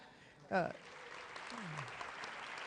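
A brief voice gives way to a soft, steady patter of audience applause that carries on, distant and faint.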